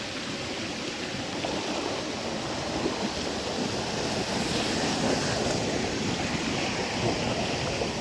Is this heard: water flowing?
yes